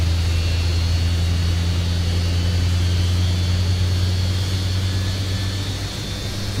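A Lockheed L1011 TriStar's jet engine spools up in a flight simulator, a loud, steady roar with a deep low hum and a high whine held throughout, no voices over it.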